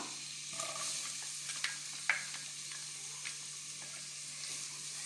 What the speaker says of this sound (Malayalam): ഈ സവോള നല്ലോണം ഒരു ബ്രൗൺ കളറായിട്ട് വരണം.